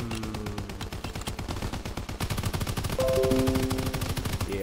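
Rapid automatic gunfire from a weapon in Call of Duty WW2, a dense continuous burst of shots in a fast, even rhythm, loud and close, with no talking over it.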